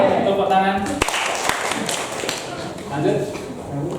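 Pupils in a classroom clapping in unison, a short burst of crisp hand claps mixed with scattered taps, children's voices around it.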